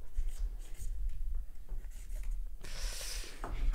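A pen scratches on paper at a table during a football-themed game show, soft continuous rubbing and scribbling strokes close by over a low room hum.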